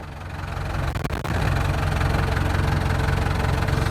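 Diesel tractor engine idling in four-wheel drive and low gear while working near a dead tree in a driveway, a steady, close, low rumbling drone with knocking pulses and a brief dip before holding constant.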